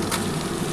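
Soybean chunks dropped into a pan of frying onions, with a dense, loud, continuous sizzle close by; no talking.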